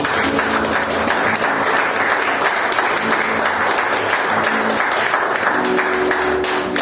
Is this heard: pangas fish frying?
no